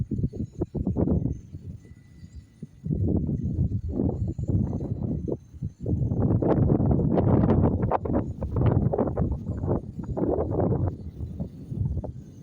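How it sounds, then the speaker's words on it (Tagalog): Strong wind buffets the microphone in loud, roaring gusts, dropping briefly between bursts. "Ang hangin."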